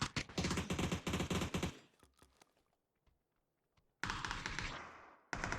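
Gunfire in a first-person shooter video game bursts out as rapid, dense automatic volleys, loud and close, breaks off into near quiet with a few faint taps, then resumes in two further bursts.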